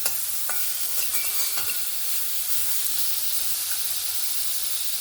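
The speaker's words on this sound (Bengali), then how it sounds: "ভালো করে একবার নাড়াচাড়া করে নিলাম" Chicken and vegetables stirred in a hot pan for soup, a steady close sizzle and hiss with a few light scraping strokes of the spoon near the start, no talking.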